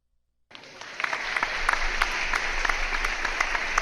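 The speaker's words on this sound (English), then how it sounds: "Do you have the applause button? Yeah, I just did it." Canned applause button effect of a crowd clapping and cheering, starting abruptly after a half-second of silence and then holding at a steady, dense level.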